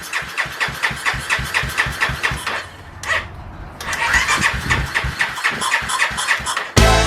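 A Honda Sonic motorcycle with a 79 mm bore and an aftermarket X-max exhaust is cranked and started, sputtering in rapid loud pulses, briefly catching, then settling into a rough, rhythmic idle close to the microphone.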